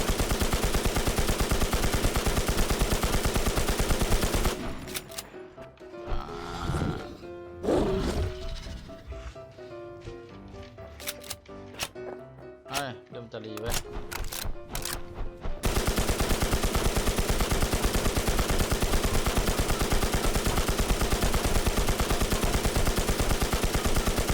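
Gunfire in the video game NewZ, a rapid burst of overlapping shots cutting in mid-clip between stretches of dense steady game noise.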